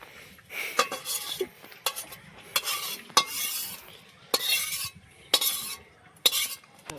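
Noodles go into a pot of hot water with a spoonful of white oil, heard as short, separate bursts of scraping, stirring and clinking utensils against the pan, with quiet pauses between them.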